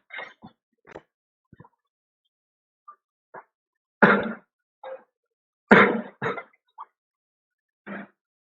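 A man coughs in a quiet room: a series of short, dry bursts, some single and some in quick clusters, separated by silent gaps.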